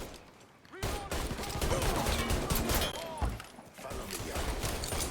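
Sustained enemy gunfire in the Mafia III video game, dense overlapping shots and bursts that carry on for several seconds with a brief dip near the end, while shouting voices run over the top.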